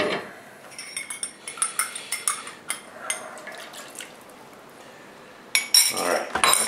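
Veggie stock hits a hot pan while making knish filling, giving a steady hissing sizzle with repeated clinks of a utensil against the pan and a louder burst of sizzle near the end.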